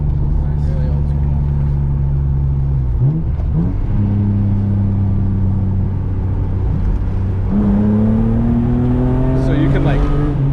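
A BMW E36 M3 engine growls steadily, then climbs in pitch as it accelerates hard into a turn, dips, and revs up again. Loud, close in-cabin sound, with people talking over it.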